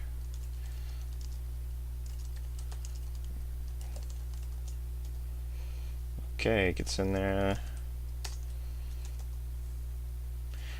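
A short burst of rapid keyboard clatter, close and crisp, lasting about a second amid a steady low hum, with brief speech nearby.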